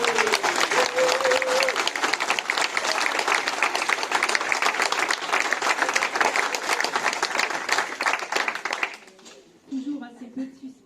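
A crowd at a French political list presentation applauds candidate Roxane Lundy, sustained loud clapping for about nine seconds before fading to a brief voice.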